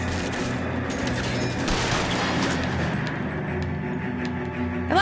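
Gunfire rattles through a shootout in the video game L.A. Noire, a dense continuous barrage of overlapping shots heard at moderate loudness with no clear breaks.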